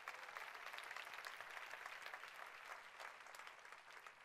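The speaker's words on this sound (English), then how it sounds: "I think that deserves a big round of applause for Nu Skin" Audience applause at a Nu Skin corporate presentation, a steady dense wash of many hands clapping throughout, moderately loud with no talking over it.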